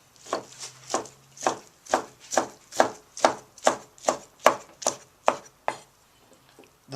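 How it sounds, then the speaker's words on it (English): A knife cuts through hot cooked beef on a board for Tibetan shaptse, about fourteen steady, evenly spaced slicing strokes, each ending in a soft thud, close and moderately quiet with no talking. "I can slice it"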